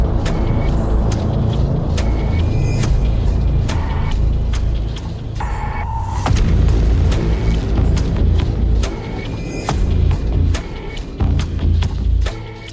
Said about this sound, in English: These trucks, as you will see behind me, are taking away all that